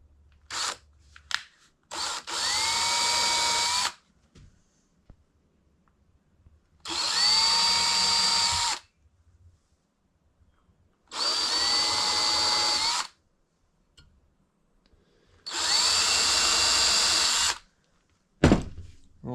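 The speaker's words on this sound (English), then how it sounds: "I think we're going to pre-drill a little bit into this" Power drill pre-drilling into a piece of poplar or pine held on a metal lathe, running in four loud bursts of about two seconds each, separated by pauses with small knocks and handling clatter.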